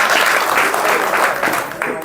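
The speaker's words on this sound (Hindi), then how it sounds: "चलो भाई इन खातिर तो ताली बजाओ" Audience clapping hands in a room at an elder-focused talk for Elderly Day, a steady dense wash of applause throughout, loud and close, with some voices mixed in.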